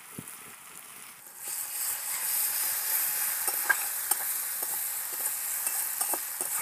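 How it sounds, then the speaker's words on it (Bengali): Ginger garlic paste hits browned onions in a hot pan, the sizzle jumping up and then holding as a steady hiss, with scattered clicks and scrapes from stirring, close and unaccompanied. "পেঁয়াজটা হালকা ব্রাউন কালার হয়ে গেছে, এবারে আমি আদা রসুন পেস্ট দিয়ে দিলাম।"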